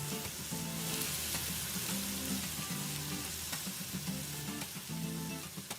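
Sambal with petai beans and lime leaves stir-fries in a pan for a chicken liver and gizzard dish, giving a steady, even sizzle with occasional sharp spatula clicks and a faint tonal hum underneath.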